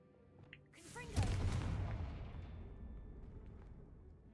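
Confringo explosion spell cast in a Harry Potter video game: a swelling whoosh runs straight into a heavy booming blast, then a long rumble that slowly fades, with a voice faintly around it.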